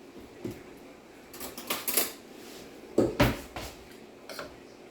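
Spoon and dishes clinking and scraping while Spanish rice with cilantro is served in a home kitchen, a few distinct knocks and rattles spaced irregularly, fairly close and moderately loud, no talking.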